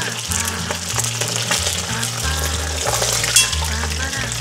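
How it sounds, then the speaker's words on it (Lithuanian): Loud, continuous sizzling of pork knuckle frying in hot oil in a kazan on a kamado grill, crackling and spattering throughout, close up, with no talking. "Oi, kaip čirška."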